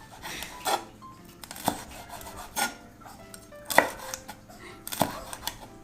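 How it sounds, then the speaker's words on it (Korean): Knife slicing paprika (bell pepper) into thin strips on a cutting board, a handful of crisp, separate chops with pauses between, close and clear with no talking. "자, 이제 채를 썰어볼게요"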